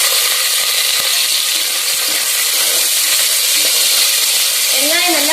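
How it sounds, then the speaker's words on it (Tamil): Thinly sliced onions sauté in hot oil for mushroom biryani, giving a loud, constant, close sizzle throughout, with a voice briefly breaking in at the very end. "வெங்காயம் நல்லா பொன்னிறமா வதங்கி வரணும்."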